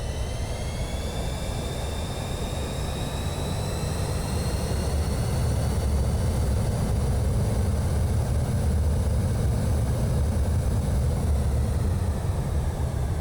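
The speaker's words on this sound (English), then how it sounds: "Absolutely love the sound effects on the engines." Pilatus PC-24 twin jet engines in a flight simulator, a steady low rumble with a thin whine layered above, holding constant and loud throughout with no talking.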